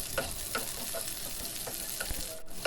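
Onions sizzle in hot oil in a pan with green chillies and curry leaves while a Chicken Manchurian is cooked. A continuous frying hiss runs throughout, with soft scraping stirs at a loose, repeated rhythm and no talk.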